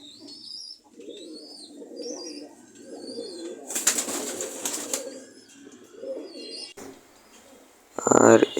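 Pigeons in a loft coo repeatedly in low, rolling phrases while adults settle over their young to feed them, with high chirps from the squabs and brief bursts of wing flapping midway and at the end.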